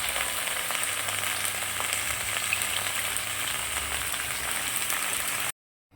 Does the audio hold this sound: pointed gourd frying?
yes